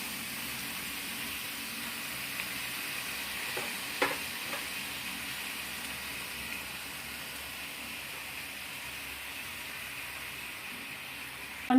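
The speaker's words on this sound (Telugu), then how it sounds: "లో ఫ్లేమ్లో పెట్టుకొని ఫ్రై చేసుకోండి, మాడిపోకుండా ఉంటుంది" Spinach (palakura) frying gently in oil over a low flame, giving a soft, steady sizzle with a few faint stirring scrapes around the middle, fairly quiet throughout.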